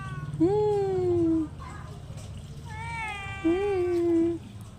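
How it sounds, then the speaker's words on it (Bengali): Two drawn-out cat meows, clear and close, separated by a short pause, over a low background hum. "এখানে দেখো ম্যাও ম্যাও, সেই দেখো ম্যাও"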